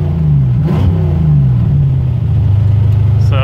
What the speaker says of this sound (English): Revs up just fine